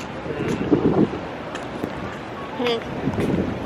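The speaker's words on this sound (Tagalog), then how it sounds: "Mahangin pa. Kanina mainit eh. Tsaka may ano kasi kanina, sandstorm. Pero hindi na malamig. Ano na lang. Lakas ng hangin." Strong wind roars and buffets the microphone in a steady broadband rush, with people talking over it.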